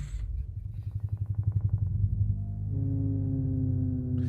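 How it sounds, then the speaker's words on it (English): Low, rumbling synthetic creature sounds: a pulsing, throaty growl that swells, then settles into a sustained droning moan, with no voices present. "So if you scroll down on the article, Tony, there's a YouTube video where it has some dinosaur soundscapes"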